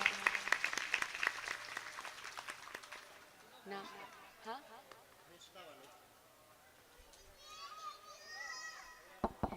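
Crowd applause at a Shrimad Bhagwat Katha gathering in Champa, India, honouring the builders of the katha pavilion: scattered, fairly distant clapping that fades, followed by children's voices and background chatter.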